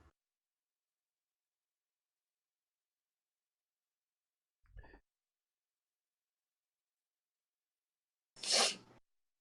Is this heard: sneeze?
yes